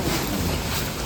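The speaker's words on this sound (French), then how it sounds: "Dans l'Amazonie sous la pluie et le vent." Loud, rushing wind roars across the microphone during an Amazon rainforest storm in Bolivia, with a dense hiss of heavy rain, a continuous blustery noise with no voices.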